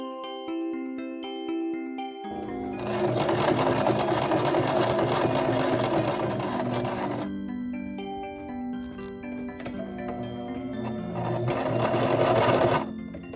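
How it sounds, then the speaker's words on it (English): A sewing machine stitching channels into fabric for costume angel wings, running in two long bursts of rapid, loud whirring stitching with a quieter pause between them and music playing underneath. "let's sew everything down"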